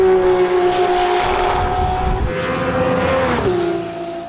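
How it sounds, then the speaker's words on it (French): An Alpine hypercar's 3-litre turbocharged V6 roars steadily nearby at high revs, its sustained tone shifting slightly in pitch as the car runs and then easing off at the end. "c'est bien un V6 turbo 3 litres"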